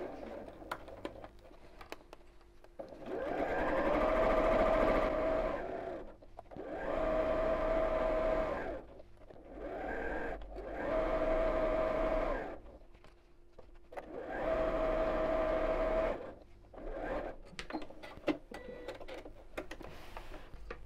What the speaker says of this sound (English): we'll just sew all the way around